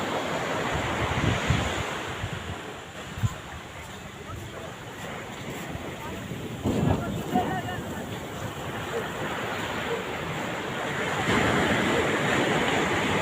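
Ocean waves wash onto the beach at Puri in a continuous, loud roar of surf, with wind buffeting the microphone and a few swells rising out of the steady wash.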